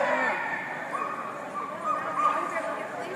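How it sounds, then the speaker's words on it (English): A dog yips and whines in short, high-pitched bursts, moderately close, mixed in with people talking nearby. "She's Thompson's dog"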